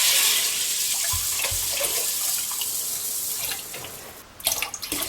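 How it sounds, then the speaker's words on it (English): Roughly 700 ml of water is poured onto mung beans for a thick mung bean soup, a steady splashing rush that thins toward the end before a brief clatter. "And then I'm going to add some water, probably around 700 ml"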